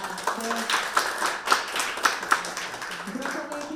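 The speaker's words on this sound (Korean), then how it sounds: "박수로 맞아주시기 바랍니다" Scattered clapping at a parliamentary health-insurance forum, a few distinct louder claps standing out in a loose rhythm, with voices talking over it.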